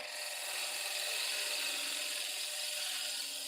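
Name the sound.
wood being turned on a lathe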